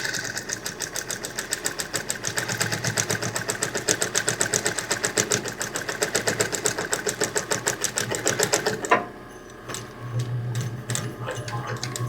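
A sewing machine back stitches straight through four layers of t-shirt fabric, a loud fast steady rattle that stops abruptly near the end, followed by a brief low whir and a few clicks.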